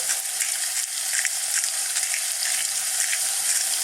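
Pork stir-frying in a wok, a dense, continuous hiss of sizzling fat with faint scraping as it is stirred constantly, close and steady, without talk.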